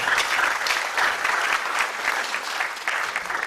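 Applause from the audience at a leadership certificate ceremony, steady, crowded clapping with slight swells, heard throughout at a fairly close, even level.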